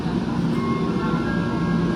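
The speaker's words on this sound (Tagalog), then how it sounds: "Oh, ayan na yung tren." A train rumbles steadily as it arrives, a continuous low roar with faint metallic squeal above it, close and fairly loud without any break.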